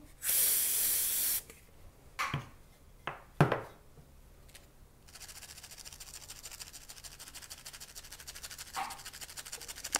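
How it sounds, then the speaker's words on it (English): Bursts of liquid spray hiss up close as vitreous enamel grains are saturated for basse-taille enameling: one long blast followed by several short spritzes, then a faint steady crackling hiss continues. "I'm going to spray and saturate over to the side."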